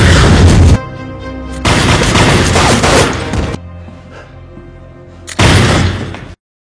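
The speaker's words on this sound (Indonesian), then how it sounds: "David terkena ledakan" Explosions and a volley of gunfire in an action film scene: loud booming blasts and crackling shots at the start, a heavy burst in the middle, then a rumbling quieter stretch and a final loud blast, with no talk.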